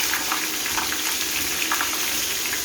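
Chinchard fish frying in a pan of oil, a dense, continuous hiss and crackle that stays close and loud throughout.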